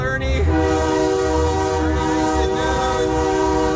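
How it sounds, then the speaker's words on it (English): A loud, sustained train horn blasts steadily as a train passes through Penticton, BC, its rich tone held the whole time with a low rumble underneath. "Train horn, holy shit."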